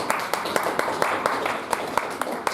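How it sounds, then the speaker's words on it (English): A church congregation at a healing service claps to celebrate Jesus, with sharp rhythmic hand claps over a murmur of voices and singing. "Clap your hands and celebrate Jesus."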